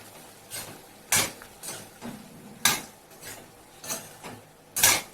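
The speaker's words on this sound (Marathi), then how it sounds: "तेलामध्ये आपला सोया तळून टाकू तर टाकलेला आहे आपला सोया आता हलवून घेऊ" A spoon stirs soya chunks frying in oil in a metal pan, giving about eight sharp clanks and scrapes at an uneven rhythm, close and fairly loud, with no voices.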